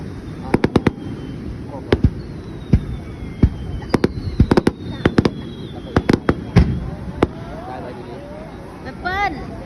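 Character-shaped fireworks burst at a Japanese summer fireworks festival in a string of sharp, distant bangs, some doubled or clustered, while people nearby chat over the explosions.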